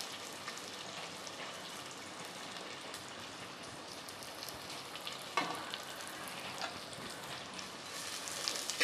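Onions and dried red chillies frying in hot oil with browned mustard and cumin seeds give a steady, soft crackling sizzle like light rain, with a few louder pops near the end and no voices.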